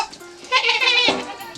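Goats at a village vaccination camp bleat in a loud, wavering burst after a quieter opening, with a second bleat following close behind and light background murmur.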